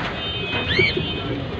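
Soft, brief coos from a female pigeon with a leg problem in a cage sound over a steady, noisy background hum.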